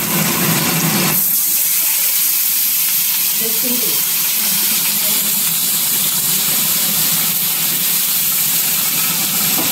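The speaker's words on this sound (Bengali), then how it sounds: "এখন জল দিয়ে দেবো।" Water poured into a hot karahi of mustard oil while cooking spiced eggplant and tilapia, setting off a loud, steady sizzling hiss of steam that holds strong and even throughout after a brief louder burst at the start.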